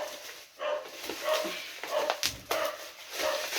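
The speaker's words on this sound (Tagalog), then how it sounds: "Ang ingay ng aso namin." A pet dog barking and whimpering indoors, several short yips and barks at irregular intervals, close and moderately loud.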